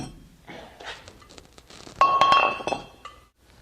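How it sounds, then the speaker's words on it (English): A brake rotor drops free from the front brake of a C900 with a bright metallic clink and short ringing at mid-clip, preceded by faint handling noises. "the rotor should just fall right out"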